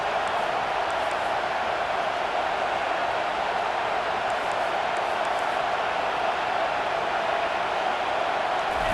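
Home crowd at a college football game roaring steadily during a third-down defensive stand, a dense continuous wash of cheering and noise that holds at an even loudness throughout, with no distinct voices standing out.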